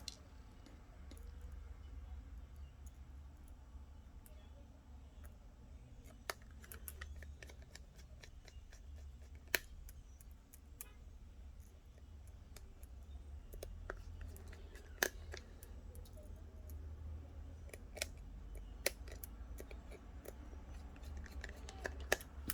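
Three small screws are fitted into a Samsung Galaxy Note phone during repair, heard as faint, sparse clicks and light ticks from a tiny screwdriver over a quiet low hum.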